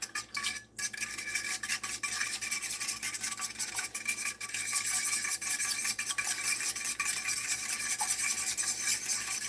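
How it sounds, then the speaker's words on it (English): A fork whisks eggs directly in a metal pan, making quick, continuous scraping and clicking strokes at a low level, steady throughout with no talking. "I just use a fork to whisk my eggs"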